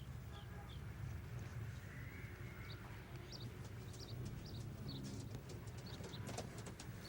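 Pigeons on a city rooftop at night, soft cooing and faint chirps scattered through a steady low ambient rumble, distant and quiet.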